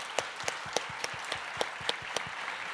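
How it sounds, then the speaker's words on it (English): An audience applauds a panel at an evening discussion event on cities, equity and polarization; the clapping is sparse and fairly faint, with a few distinct claps standing out in a short burst. "A big round of applause to the panel."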